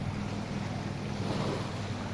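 Gentle sea waves wash steadily at a beach, a soft continuous broadband hiss and low rumble with some wind buffeting the microphone, with no voices.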